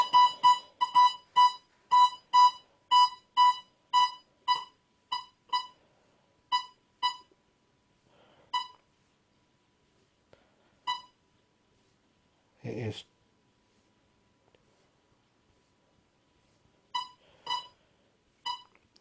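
A run of sharp electronic beeps from a CS4MXI metal detector over a buried coin target in a UK field, rapid at first then spacing out and fading, with a brief voice in the middle and two more beeps near the end.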